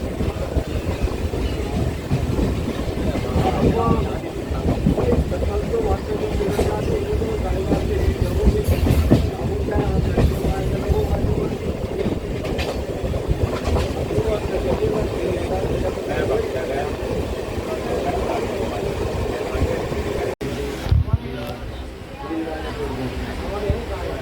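A train pulls away from Dhuai halt in the Delhi division, a continuous rumble and rhythmic rail clatter heard from on board across the whole span, with speech over the running noise.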